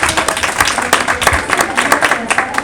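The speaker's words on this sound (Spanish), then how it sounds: "también la saludamos con un aplauso" Audience applause at a book presentation for the novel "El tiempo del tigre", a dense, steady patter of clapping hands with some speech mixed in, filling the room for a couple of seconds.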